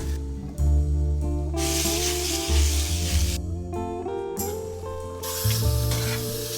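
Omelette with hamburger meat frying in a pan, a loud sizzling hiss that swells and fades in bursts over steady background music.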